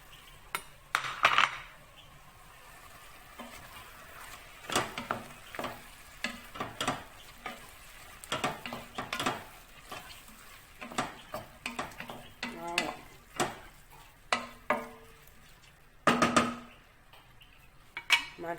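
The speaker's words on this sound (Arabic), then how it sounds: "كالامار بيض بدا كيدخل الطياب، بدا كيطلق الماء ديالو" White squid sizzles and releases its water in a hot pan for a Chinese-style soup, with repeated stirring strokes and sharp utensil clinks against the pan throughout, close and fairly quiet.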